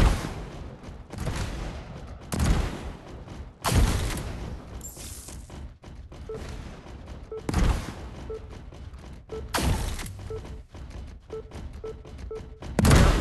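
Video game gunfire breaks out in heavy bursts and thumping volleys, some loud and close, others softer, spread irregularly across the stretch with quieter gaps between.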